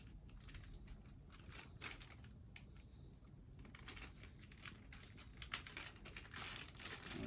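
A Ziploc plastic bag holding a used Toyota Solara oil filter is pressed flat and sealed, giving faint, close crinkling and snapping clicks in irregular bursts with no talking.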